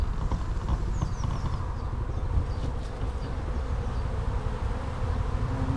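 Dense, steady buzzing of many honeybees at a hive that was once abandoned and later set upright, heard close and constant from start to finish with no talking.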